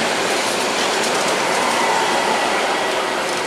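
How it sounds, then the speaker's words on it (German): Train pulling out of Lindau station after arriving from Augsburg, a steady loud rolling rumble with rail noise and faint wheel clatter filling the whole stretch, close by on the platform. "jetzt nehme ich euch gleich die Ausfahrt auf von dem Zug, mit dem ich aus Augsburg hier angekommen bin"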